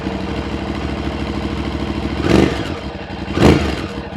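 An Aprilia Tuareg 660 motorcycle fitted with an Akrapovic full exhaust idles with a steady lumpy burble, then gives two sharp throttle blips about a second apart, close and alone.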